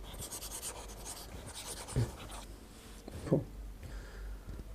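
Quiet scratching of a pen or chalk writing during a chemistry lecture, soft intermittent strokes with a couple of sharper taps, faint over a low background hum.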